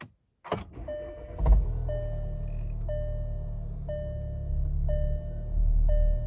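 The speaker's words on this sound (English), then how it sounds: "I'm going to put my foot on the brake and see if it starts." VW Golf MK7 starting right after a battery replacement: a sharp click and brief starter crank, then the engine catches and settles into a steady idle while a dashboard chime repeats at regular one-second intervals.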